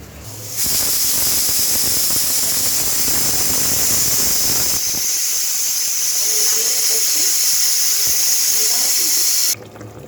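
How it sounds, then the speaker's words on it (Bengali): A pressure cooker holding potatoes and fat lets out a loud, sustained whistling hiss of steam that cuts in abruptly, holds steady for about nine seconds, and stops sharply. "এখনো এই আলুটা দিয়ে আবার 3টে ছিটি মারবো, হয়ে যাবে।"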